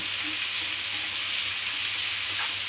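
Onions, chillies and cashews frying in oil in a pan while being stirred: a steady, bright sizzle with faint stirring scrapes underneath, continuous and close.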